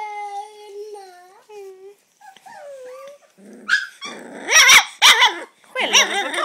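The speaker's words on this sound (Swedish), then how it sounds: "Skäller du på kameran va?" A dog barks, yips and growls at a camera indoors, with loud, close barks and growls bunched toward the end, following some high whining or whimpering.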